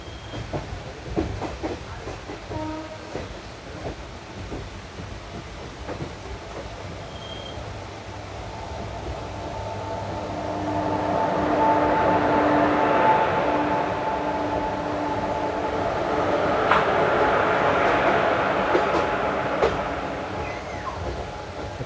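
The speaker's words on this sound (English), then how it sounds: "So these are the banker engines." A pair of Kalyan banker locomotives at Karjat station, coupled to a passenger express for the climb up the Bhor Ghat, gives a steady, close rumble with hiss that swells louder through the middle and stays strong to the end.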